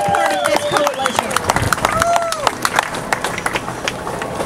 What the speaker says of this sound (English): Please give Leon Abood a round of applause